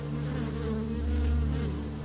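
Honey bees swarm around freshly pulled hive frames at a Carpathian apiary, producing a close, steady droning buzz with a slight swell in the middle and no other sounds.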